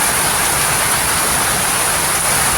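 Heavy rain pours down in Leyte, a loud, unbroken hiss of falling water that stays constant from start to finish.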